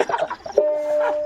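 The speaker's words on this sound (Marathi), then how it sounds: "तो कोंबडा किती वाजता गागायचा" Rooster crowing during a village storytelling performance, a single short sustained call after a brief stretch of voices, loud and close.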